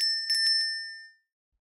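A small metal bell fitted to a garden gate rings with a bright, clear ding and a quick follow-up jingle, then fades out into silence.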